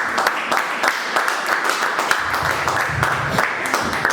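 A congregation applauds during a Sunday church service, a steady, dense patter of many hands clapping together at a fairly loud level for several seconds.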